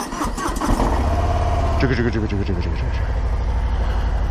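A Harley-Davidson Fat Bob motorcycle engine cranks and fires up, settling into a loud, steady, rumbling idle close by, with no talk over it.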